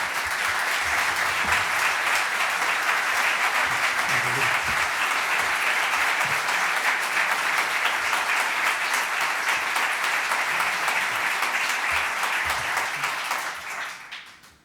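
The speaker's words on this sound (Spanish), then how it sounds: "Pero yo os propongo que además de eso le gritemos con un aplauso «larga vida a Peridis»." Sustained loud applause from a large audience, steady clapping for over ten seconds before fading out at the end.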